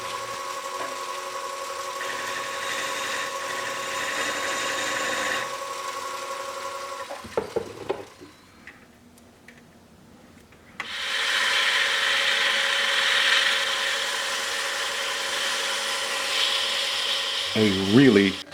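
A 3/4 inch hole in a snakeskin micarta piece is widened on a lathe faceplate, a steady grinding whir that pauses briefly and then returns louder, with faint talk heard in the gap.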